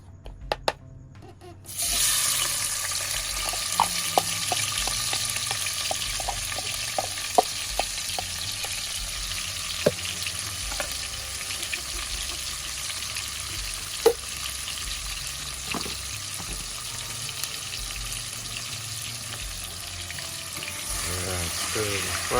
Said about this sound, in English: Stir the pot.